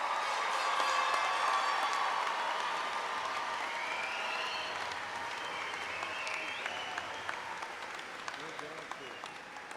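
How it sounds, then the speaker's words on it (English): Commencement crowd applauding and cheering for a graduating university class, a loud wash of clapping that slowly thins toward the end, with scattered individual claps and faint voices mixed in. "Applause for them."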